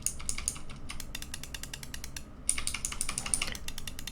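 Rapid, crisp clicking from tactile purple clicky switches on a Razer Huntsman V2 keyboard, keys pressed in quick irregular bursts, close and fairly loud, with a brief lull before a denser flurry of clacks.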